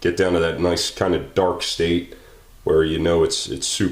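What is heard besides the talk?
No distinct noise like a dog, phone or traffic.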